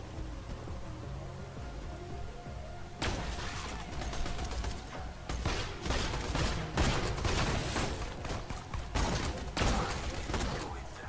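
Gunfire in Borderlands 2, with repeated loud bursts of shots over a steady background of game ambience and mechanical noise.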